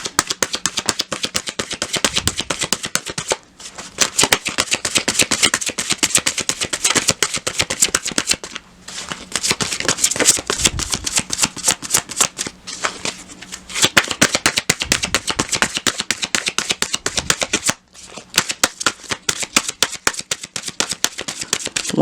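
A deck of tarot cards is shuffled close by in rapid, crisp riffling bursts that run almost continuously for about twenty seconds, broken by a few short pauses.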